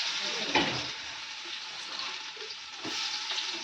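Onion hits very hot oil in a pot that already holds garlic, giving a loud, dense, continuous sizzle and crackle with a few stirring knocks. No voices are heard.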